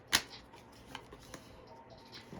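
Tarot cards shuffled by hand, one sharp riffle snap near the start followed by a few soft, faint card clicks and rustles in a quiet room.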